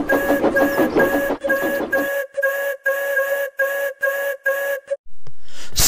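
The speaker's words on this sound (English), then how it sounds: "It sounded as if an engine wanted to whistle, but couldn't quite manage it." A steam whistle tries to sound in a series of sputtering, choked bursts, each a breathy hoot cut short, repeating about a dozen times before falling silent.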